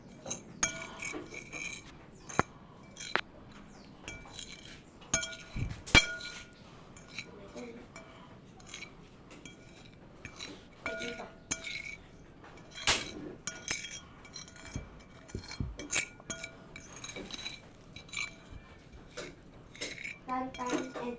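Metal utensils clink and scrape irregularly against a pan while pancit canton ingredients are stirred together, with sharp clatters scattered through the stretch and quiet talking between them.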